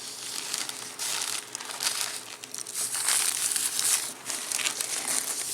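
Plastic seed starting trays being trimmed of excess, a continuous close crinkling and crunching of thin plastic with uneven surges in loudness.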